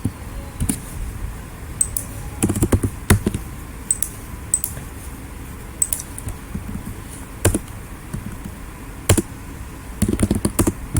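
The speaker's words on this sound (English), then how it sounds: "Just random typing" Someone types on a computer keyboard while working through C programming code. The clicks are close and fairly loud, coming in short irregular clusters separated by brief pauses.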